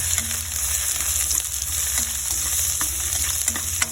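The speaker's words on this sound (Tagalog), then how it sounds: "kaya ako ay naluluto ang bawang" Garlic sautéing in a pan, a steady close sizzle over a low hum, with scattered crackles and a few light stirring scrapes, no talk over it.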